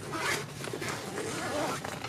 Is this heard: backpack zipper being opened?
yes